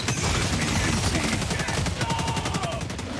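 Rapid, loud machine-gun bursts from a coil-cooled gun in Helldivers 2, a dense stream of shots running without pause through a chaotic battle soundscape, with faint talk beneath.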